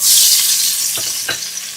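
Onions go into hot oil in a pot for mutton biryani, raising a loud, close hiss of frying that stays steady over the brief moment, with a couple of faint stirring knocks.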